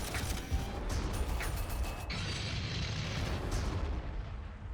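Battle noise from Warhammer 40,000 Armageddon: a dense rumble of gunfire and explosions with scattered sharp pops and mechanical clanks, steady and fairly loud, no voices.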